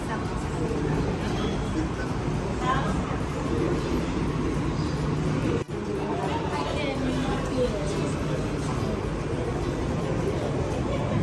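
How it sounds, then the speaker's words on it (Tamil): A Dubai Metro train runs with a steady, loud rumble of rail noise throughout, while people chatter nearby over the continuous hum of the carriage. "ரயில்"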